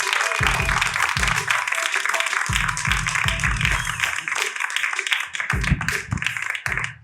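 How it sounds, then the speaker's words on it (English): Comedy club crowd claps steadily and loudly for a stand-up act, dense applause running throughout, with low thumping and bursts of voices mixed in. "big round of applause, Lele Mason"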